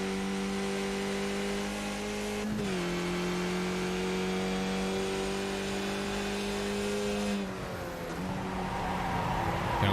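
A race car engine in a racing video game at Watkins Glen International holds a loud steady whine, then drops pitch in sharp downshifts near three and eight seconds before revving again, with no talk.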